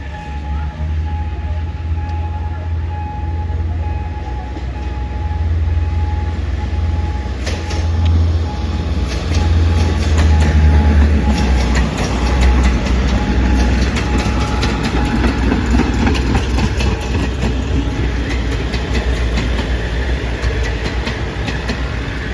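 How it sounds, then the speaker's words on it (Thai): Diesel-hauled commuter train 355 on the Bangkok–Suphanburi line rolls past the Si Ayutthaya Road level crossing, a steady loud rumble with rail clatter lasting throughout, over street noise, with a voice talking at points. "355 นะครับผม กรุงเทพสุพรรณบุรี ก็เป็นขบวนรถชานเมืองนะครับผม"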